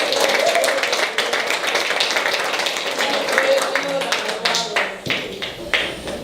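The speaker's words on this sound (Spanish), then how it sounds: "Dale un aplauso a Cristo porque Él es bueno." A church congregation claps together in a steady, crowded patter of applause during a Spanish-language service, with speaking voices over the clapping.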